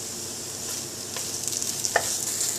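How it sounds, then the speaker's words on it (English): A spoon stirs turmeric, chili and coriander powder in a pot for a mutton and spinach curry, soft scraping strokes with faint sizzling underneath, close and quiet, with no voice. "And now we're going to give it a stir."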